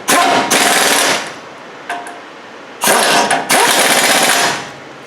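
Air impact wrench driving in front brake caliper bolts on a 2007-14 Chevy Silverado, with two loud rattling bursts, then a short tap, then two more hammering bursts, close up and without talk.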